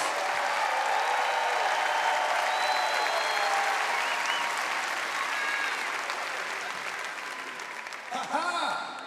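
A crowd applauds the coach at a women's basketball national championship celebration, a loud sustained roar of clapping with cheers and whoops that slowly eases off, a voice starting to speak near the end.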